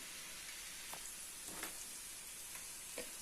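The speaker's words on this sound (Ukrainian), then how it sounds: "Підсмажуємо цибулю і печеріци" Onion and button mushrooms fry in a pan, giving a faint, steady sizzle with soft crackles throughout.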